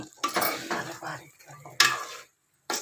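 A spoon scrapes and clinks as it stirs stuffed brinjal curry (gutti vankaya) in a pan, in short uneven strokes over a faint sizzle, then a brief pause and one last scrape.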